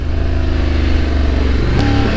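A Honda Africa Twin motorcycle engine hums close and steady while riding, then a quick downshift near the end brings a short rise in revs and a change in engine note.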